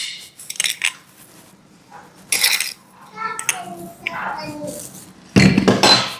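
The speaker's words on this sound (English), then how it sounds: "And then I'm going to go ahead and add 1 tablespoon of sugar." Utensils clinking as a tablespoon of sugar is added in a home kitchen, scattered sharp clinks and scrapes with a loud clatter near the end, under a voice and talk.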